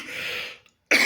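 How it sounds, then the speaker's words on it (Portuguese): A single rough cough, close and loud, then a brief silence before another harsh burst begins. "Eu tô com uma tosse meio chata."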